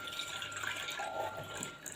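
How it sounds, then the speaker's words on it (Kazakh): Milk is poured into a pot for a custard cream, making a short, soft liquid trickle and splash close by that runs for a couple of seconds. "Ең алдымен сүтімізді құйып аламыз."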